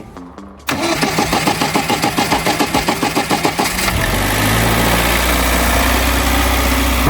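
A Lada (Zhiguli) car engine with new spark plugs and a cleaned starter turns over and catches, then settles into a loud, steady, even idle close by.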